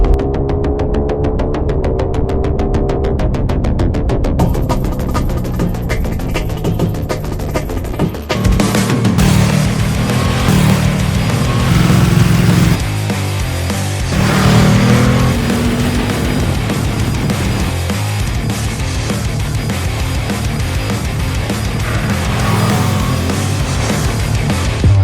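A Ducati Streetfighter V2 motorcycle on the road: a loud, continuous engine drone with shifting rev tones, soaked in heavy wind roar throughout.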